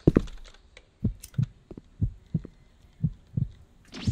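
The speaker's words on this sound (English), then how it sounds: "I'm not liking this heartbeat" Slow, steady heartbeat thuds from the video game Grounded, repeating in paired lub-dub pulses about once per second, fairly close and prominent with faint background hum and no talk.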